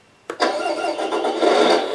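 A Tamiya MFC-03 RC truck's simulated engine sound starts up abruptly after a short quiet lead-in, then runs as a steady, fairly loud mid-pitched idle rumble with no talking.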